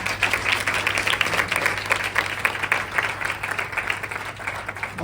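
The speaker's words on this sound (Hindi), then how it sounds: "तालियां जरूर आप बजाएंगे।" Audience applause filling a hall for a celebrated musician's birthday honour, a steady wash of many hands clapping at a fairly loud level throughout, with a low steady hum underneath and no speech.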